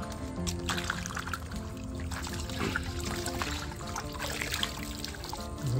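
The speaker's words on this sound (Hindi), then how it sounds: "अच्छे पानी से धो लेंगे।" Water pours and splashes steadily while aquarium items for a planted tank are washed, a continuous loud running and sloshing stream with clattering handling noises.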